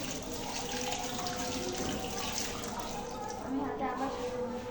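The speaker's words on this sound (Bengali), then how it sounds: "প্রত্যেকটা আঙুল আমি সুন্দর করে ধুয়ে নেব।" Hands being washed under a running tap, each finger rubbed clean, with a steady, soft stream of splashing water throughout while a person talks over it.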